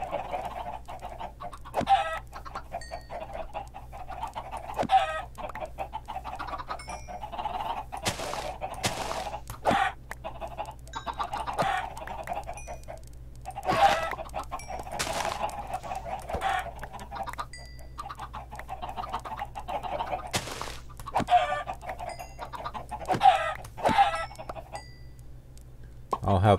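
Chickens in the video game Minecraft cluck repeatedly in short, irregular bursts, some overlapping, at a moderate level over a low steady hum, with many birds close together and no voices in between.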